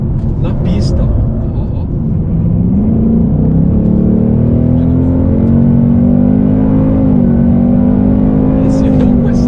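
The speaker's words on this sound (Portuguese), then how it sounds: "Esse ronco é sensacional." A 2025 Ford Mustang Dark Horse V8 roars on a race track, its engine note climbing in pitch as it accelerates, loud and close, with a voice talking over it.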